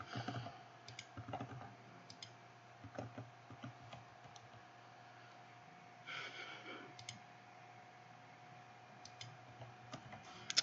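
Keys clatter on a computer keyboard in short bursts of quiet typing as passwords are entered, with pauses between the bursts and a faint steady hum underneath.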